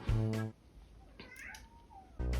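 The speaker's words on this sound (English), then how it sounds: "there's Ozzy in the background going meow" Ozzy the cat meows in the background with two loud, drawn-out calls, one at the start and another near the end. Quieter household sounds fill the gap between them.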